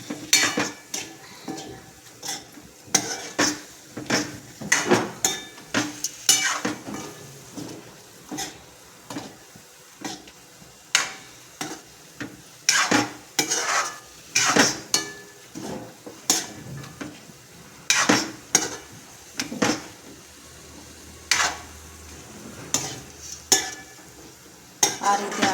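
A spoon stirring a tuvar totha mixture in a cooking pan, scraping and clinking against the metal in quick irregular strokes, with a faint sizzle beneath and no talking.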